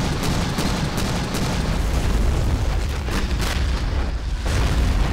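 A BTR armored vehicle blows up in the Modern Mod war game near Donetsk, a loud rumbling blast that rolls on under continuous battlefield noise, with further booms through the clip.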